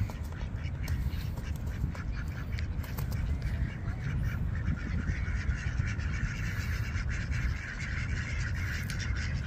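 A flock of ducks in a provincial outdoor setting quacks continuously and loudly, many overlapping calls forming a dense, nearby chorus with no pauses.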